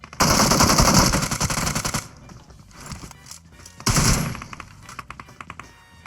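Automatic gunfire in the shooter game PUBG Mobile rattles in two loud sustained bursts, separated by a quieter stretch of scattered shots and faint echoing cracks.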